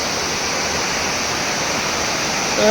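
Water from a waterfall near Kandahar pours over a small foundation in a dense, steady roar, loud and close, with no other sounds standing out.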